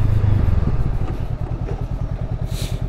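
A 2023 Honda CMX 500 Rebel motorcycle under a combined braking test, its engine a loud, close, steady low throb that eases as the bike slows.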